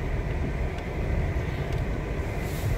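Steady in-car road rumble of a family car on a long drive to Crimea, children riding inside; broadband engine and tyre noise holds constant and loud with no talk.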